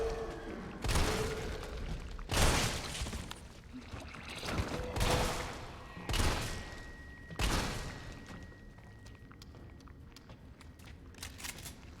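Shotgun blasts in Resident Evil 3, about five heavy booming shots spaced a second or two apart, each with a long decaying tail, loud and up front with no talk over them.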